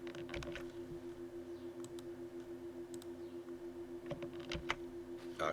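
Faint bursts of keystrokes on a computer keyboard as alt text is typed, quick clusters of clicks separated by pauses over a steady electrical hum.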